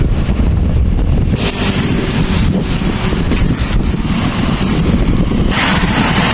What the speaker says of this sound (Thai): แต่มื้อนี้อากาศเย็น ลมพัดจ้อยๆพี่น้องเลย